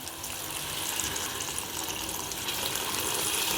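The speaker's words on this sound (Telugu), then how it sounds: "ఇప్పుడైతే వాటర్ వేసేస్తున్నాను" Water is poured into a potato, tomato and brinjal curry, making a steady, soft gushing splash that continues evenly throughout at a moderate distance, with no talking.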